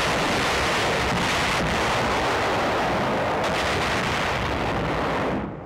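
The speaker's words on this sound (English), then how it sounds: "Another section being cleaned out by satchel charges." Satchel charges blast through a section of defenses during the Battle of Okinawa, heard as a dense, loud, continuous roar of explosions and rushing noise on an old war film soundtrack that cuts off abruptly at the end.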